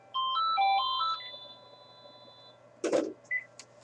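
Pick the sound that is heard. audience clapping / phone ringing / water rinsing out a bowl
phone ringing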